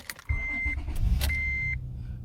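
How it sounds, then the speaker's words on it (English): A Honda car engine cranks and starts with an aftermarket flip key, firing up quickly and settling into a steady idle. Short chime-like beeps ring out over the engine. "And with the key, I can start my car."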